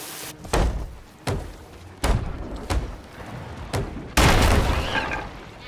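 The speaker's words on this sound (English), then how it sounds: "Quit shooting us." A ship taking cannon fire in the Sea of Thieves video game, a string of heavy booming impacts and thuds at irregular intervals, ending in a louder rumbling blast.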